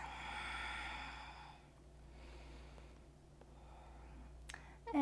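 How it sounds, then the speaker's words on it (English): A single deep, slow exhale during yoga practice, close and breathy with a soft rushing sigh that fades, followed by quiet room tone and a faint shuffle near the end. "And fill up your back with breath."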